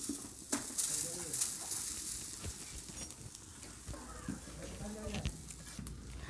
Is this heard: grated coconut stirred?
yes